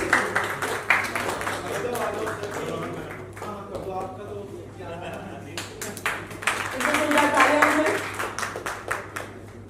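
Audience clapping for a designer coming onstage at a Bollywood film muhurat event in Mumbai, scattered claps rising and falling at moderate distance, mixed with ongoing talk.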